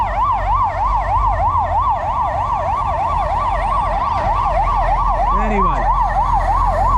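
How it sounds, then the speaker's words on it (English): A loud fire engine siren wails in a rapid, continuous up-and-down pattern on a street in Cluj, Romania, with a second siren tone sweeping in briefly over steady traffic rumble. "Fire engine."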